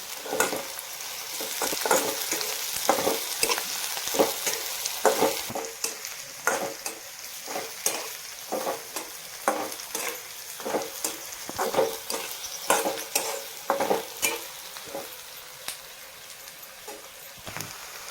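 Onion sautéing in a pan for an onion-peanut chutney, a continuous close sizzle broken by frequent quick stirring scrapes and clicks in an uneven rhythm throughout.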